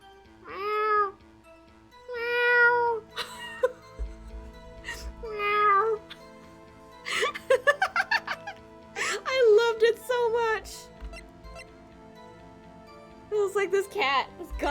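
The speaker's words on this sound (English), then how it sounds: "goddamn cat." A cat meows repeatedly, a string of short, fairly close cries arriving in uneven bursts, some rising and drawn out, over a quiet background.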